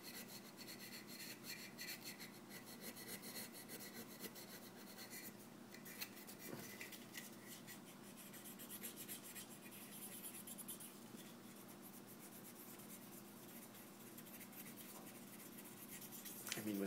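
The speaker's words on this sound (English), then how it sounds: "with a fine, fine file like I'm using" A fine metal file rasps steadily across a Wilson Combat 1911 pistol magazine, close and quiet, in repeated short scraping strokes with no talking.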